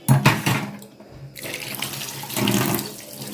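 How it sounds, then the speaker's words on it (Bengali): Running tap water splashing over a Padma hilsa fish being washed in a sink, a burst of gushing flow that briefly stops, then resumes, close and moderately loud with no talking. "এখন ধুয়ে নিলাম মাছটা।"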